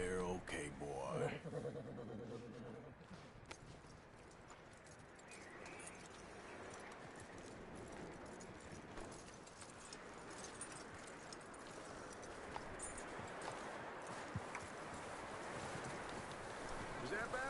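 Horse hooves clip-clopping in the video game Red Dead Redemption 2, a steady run of soft, fairly faint hoof beats under a wash of ambient game noise, with someone speaking early on.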